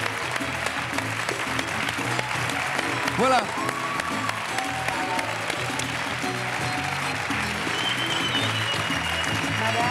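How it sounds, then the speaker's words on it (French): A studio audience applauds couple number 29 at a Swiss television New Year's Eve show, with steady, sustained clapping throughout and a presenter speaking briefly over it. "On les applaudit très fort."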